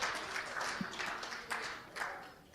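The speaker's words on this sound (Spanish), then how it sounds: "Den un aplauso al Señor." Soft, distant applause from a church congregation, a continuous patter of clapping with a few stronger swells.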